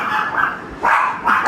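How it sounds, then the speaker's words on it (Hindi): A dog barks a few times in a lively home with children, the barks fairly close and sharp, with loud bursts rising over background noise. "कुकी भी भौंकने लग गया उसके साथ"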